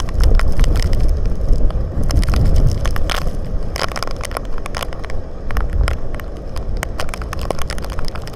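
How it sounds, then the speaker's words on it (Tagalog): Strong typhoon wind in Chiayi, Taiwan buffets the microphone in heavy, rumbling gusts, with crackling bursts and a rushing roar that rises and falls throughout. "malakas ang hangin"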